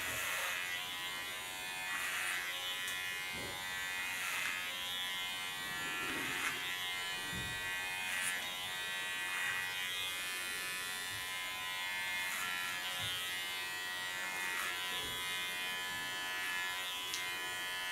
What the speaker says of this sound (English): This I do with a clipper.